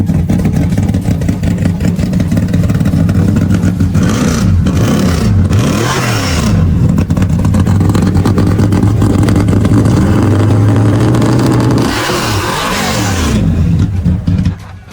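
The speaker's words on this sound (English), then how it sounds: "She was just saying that she couldn't hear after you started your car." A 1964 Ford Mustang's engine runs loud and close, revving up and down in repeated surges with a steady rumbling idle between throttle blips and no voices.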